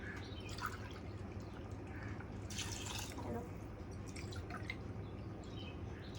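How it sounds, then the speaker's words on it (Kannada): Water pours and splashes into a pot of rice for prawn biryani in a short burst, with soft drips around it against a quiet background hum. "ಸೊ ನಾನು ನೀರು ಹಾಕ್ತಾ ಇದ್ದೇನೆ."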